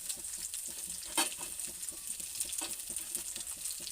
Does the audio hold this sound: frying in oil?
yes